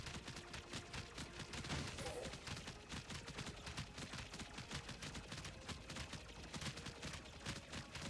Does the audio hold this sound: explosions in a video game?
yes